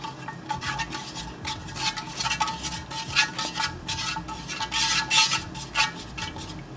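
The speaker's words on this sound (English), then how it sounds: "Give it a quick stir." A spoon rapidly stirring a North Korean single-meal ration pack, making brisk, rhythmic scraping and swishing strokes close up with light clinks and no voices.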